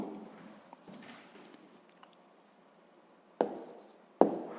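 Handwriting a number with a pen or pencil on paper during a math exercise, soft scratchy strokes running quietly at first, then two short, sharper scratches near the end; no voices are heard.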